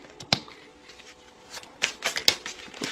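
Tarot cards being shuffled by hand at close range, a few quick riffling and slapping bursts with soft brushing in between, in a quiet room.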